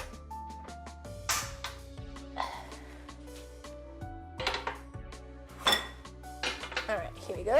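Big metal cooking pan handled in a kitchen while making Italian sausage sandwiches, with sharp clanks and clatters at irregular intervals, several loud metallic knocks among quieter rattles and scattered sounds.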